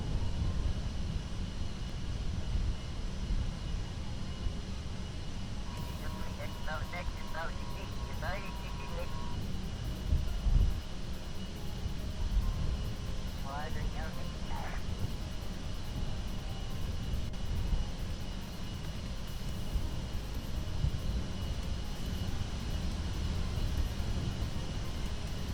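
An aircraft engine drones steadily while a plane taxis in Kerbal Space Program, a continuous low rumbling roar with brief beeping tones partway through.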